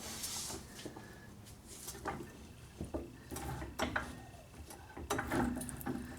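A metal car jack is shifted and repositioned under a raised vehicle, producing close, irregular clanks, scrapes and ratcheting clicks of steel against the floor and chassis, with no voices over it.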